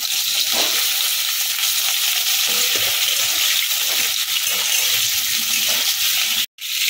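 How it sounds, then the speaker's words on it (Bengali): Potatoes and pointed gourd deep-fry in hot oil, giving a steady, loud broadband sizzle with faint bubbling throughout that cuts off abruptly for a moment near the end. "আলু আর পটল এগুলোকেও লাল লাল করে ভেজে নেব। একেবারেই দিয়ে দিলাম, লাল লাল করে ভেজে তুলে নেব।"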